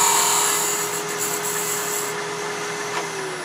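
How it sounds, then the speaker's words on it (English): A wood lathe spins a traditional wooden coffee scoop while a gouge takes a light shear cut into a rounded corner, giving off tiny shavings. A steady whine and broadband hiss hold evenly throughout, with no talking. "I come up off just a little bit for a shear cut. Small, tiny shavings, get into that rounded corner."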